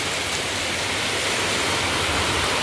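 Heavy rain falls in a steady, dense hiss that holds unbroken from start to finish, close and even, with no voices over it.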